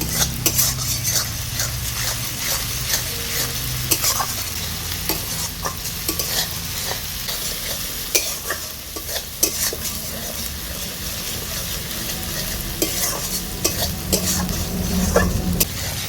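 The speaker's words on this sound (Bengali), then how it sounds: "আদা রসুন বাটা দিয়ে কিছুক্ষণ ভালো করে নেড়ে চেড়ে নিয়েছি" Ginger garlic paste and onions frying in a pan for rajma masala give a continuous sizzle, with frequent sharp clinks and scrapes of a spoon stirring against the pot.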